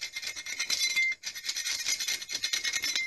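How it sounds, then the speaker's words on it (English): Light hand sanding of a painted surface being prepared to cover water stains, a close, steady scratchy rasp of quick back-and-forth strokes with one brief pause, no talking. "And then I'll give it a light sand."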